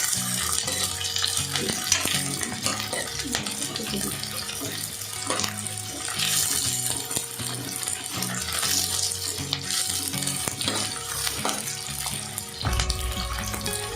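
Chopped onions fry in a pan for ridge gourd chutney, hissing and sizzling steadily up close for the whole stretch, with occasional scraping and stirring.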